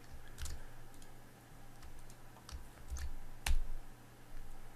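Sparse computer keyboard taps and mouse clicks while setting up a Facebook ad campaign, soft and close against a low room hum, with a sharper click near the end and no talking.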